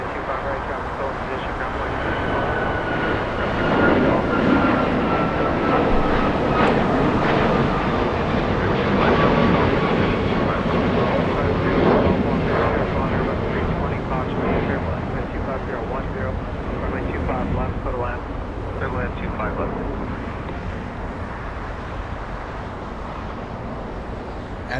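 An Alaska Airlines Boeing 737 MAX 9 jet at Los Angeles International Airport, a loud sustained engine roar with a rising whine that swells and then slowly fades, with people talking over it.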